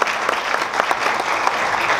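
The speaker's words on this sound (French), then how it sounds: "je vous invite à applaudir très fort Hassan Zalouni pour cette performance." Audience applause at a Tunisian entrepreneurship event honoring a performer: a steady, dense clapping from a crowd filling the full two seconds at even loudness, with no talk over it.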